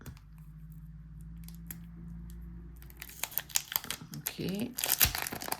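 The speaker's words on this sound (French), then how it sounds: "le deuxième paquet, on va l'ouvrir" Plastic wrapper being torn open on a pack of cards from a micro card game, crinkling and crackling in a quiet stretch that turns into a busy, close run of rustles and rips, with one brief spoken word near the start.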